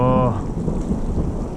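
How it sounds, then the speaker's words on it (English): Thunder rumbles during a storm in Colorado's San Juan Mountains beside a trout creek, a close, heavy low roll filling the whole short moment with rain-like hiss, after a brief voice at the start. "that thunder sure sounds close"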